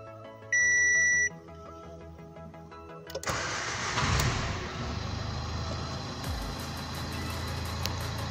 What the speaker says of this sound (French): je vais redémarrer le moteur pour vérifier est-ce que le défaut reste ou non